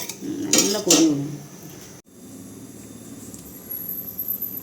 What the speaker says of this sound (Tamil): இதை வந்து இப்போ மிக்ஸ் பண்ணுறோம்